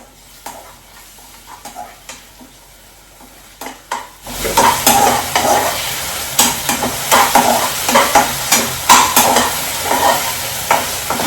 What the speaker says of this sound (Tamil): கொஞ்சம் ப்ரௌன் ஆனதுக்கப்புறம் இஞ்சி பூண்டு பேஸ்ட் போட்டுக்கிறேன்